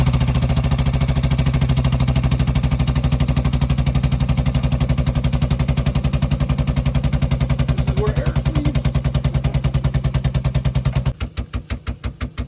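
A Steiger tractor's diesel engine runs loud and steady with a continuous low rumbling drone and rapid pulsing, then the firing beats slow and separate near the end as the revs drop.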